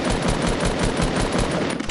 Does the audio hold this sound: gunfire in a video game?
yes